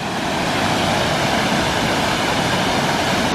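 Gooseberry Falls on a Minnesota trail roars as a loud, continuous wash of falling water, steady and unbroken from start to finish with no voices.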